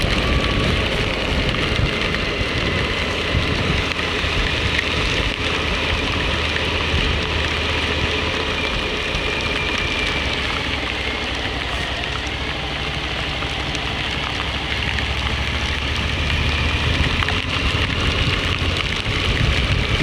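Heavy rain falling during a motorcycle ride, a dense, continuous hiss and patter of drops on surfaces, loud and steady throughout with a faint low rumble beneath and no voices.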